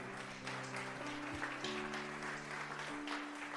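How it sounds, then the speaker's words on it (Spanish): A church congregation applauds during an afternoon worship service, with steady, dense clapping from many hands and a sustained organ or keyboard tone droning underneath, moderately faint throughout. "Denle un fuerte aplauso al Señor en esta tarde."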